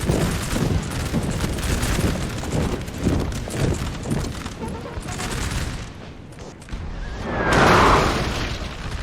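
Artillery and musket fire in a Napoleon: Total War battle of the French invasion of Russia, with dense crackling volleys and booms rolling on throughout, a louder burst near the end.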